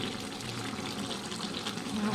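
Water pours steadily into a pan of chicken being cooked, a continuous close splashing rush that lasts the whole short moment with no talk over it.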